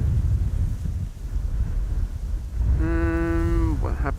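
Gusty wind buffets the microphone at an aircraft spotting spot at Amsterdam Schiphol during rain showers, a steady rumbling roar, with a brief tonal whine near the end.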